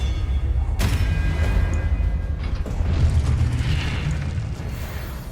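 A Hogwarts Legacy video game spell, Expelliarmus, cast with a sharp burst and a rumbling boom that rolls on for several seconds amid other game effects.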